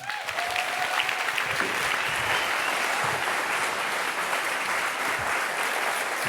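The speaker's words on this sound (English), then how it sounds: "Please give a warm round of applause to David Pollard." A conference audience gives a warm round of applause as a speaker is introduced at a Workplace Pride event, a full, sustained wash of clapping from a large crowd with a brief voice at the start.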